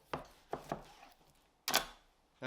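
A knife cuts through a Manhattan steak from the New York end with a few distinct, close, firm slicing strokes separated by short pauses, with no talking.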